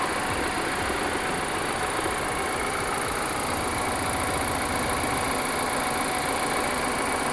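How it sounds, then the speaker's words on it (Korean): An Audi Q5 45 TFSI quattro Sportback engine idles steadily, a constant low rumble with a faint mechanical hum that holds even and unchanging throughout, close by and with no talking. "엔진 소리 일정하네요"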